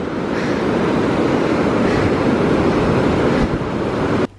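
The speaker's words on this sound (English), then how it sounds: "The waves are amazing." Ocean surf breaks continuously at Kuta, Bali, a loud, close roar of crashing waves with wind buffeting the microphone, cutting off abruptly at the end.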